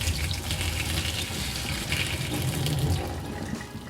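Hot water pours from an Asobu insulated bottle in a steady splashing stream, close and fairly loud, holding constant for several seconds before easing off at the end.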